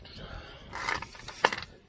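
A ratchet clicks briefly while backing out a large stud on a Mercedes-Benz GL450 air suspension, a short burst of close mechanical clicking with no talk.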